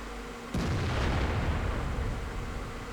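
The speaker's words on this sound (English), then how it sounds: "I send another shell into his back for 150 damage." A tank shell fires in World of Tanks with one sudden heavy boom, followed by a sustained rumbling roar that slowly fades.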